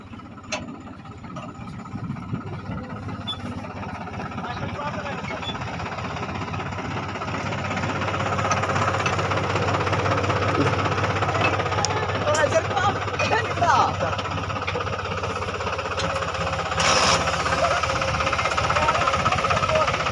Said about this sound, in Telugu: ట్రాక్టర్ ఇసుక తీసుకెళ్తూ మరి ఇరుక్కుపోయిందండి ఊబిలో